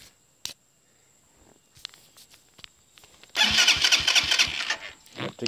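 A 2018 Serpento Taypan 200cc motorcycle in neutral, with a few faint clicks before the engine catches and bursts into a loud, close, sputtering idle with light throttle, no talking.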